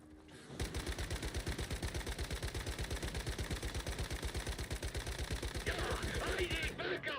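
A minigun in the video game Once Human fires one long sustained burst of rapid, tightly spaced shots, loud and close, that holds steady for several seconds before cutting off.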